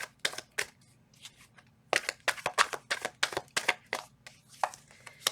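Tarot cards being shuffled by hand, a run of sharp papery riffles and slaps in uneven bursts, close and fairly loud with short pauses between, no voices.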